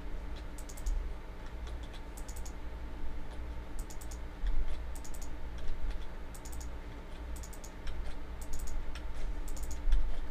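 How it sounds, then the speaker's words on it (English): Rapid clicky mechanical keyboard switches tapped in short irregular bursts, close and crisp over a steady low hum, with no talking. "Clicky clicky. Lots of clicky clicky."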